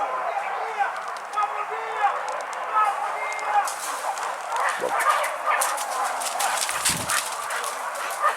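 Hunting dogs on a hunt give repeated sharp barks and whimpers amid outdoor rustling, with people talking over them.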